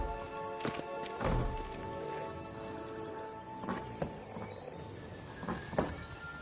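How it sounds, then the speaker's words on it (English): A horse named in the game trots along in a PS5 video game, its hooves clopping in an uneven rhythm over a steady bed of game ambience and soft music. "Whoa there, Roach"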